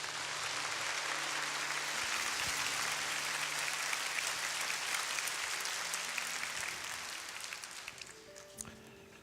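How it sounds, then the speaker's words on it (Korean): A church congregation at a mission Sunday service gives a big round of applause to welcome a visiting pastor, a broad, full wash of clapping that swells and then thins out, with faint voices and tones underneath. "박수로 맞이하겠습니다"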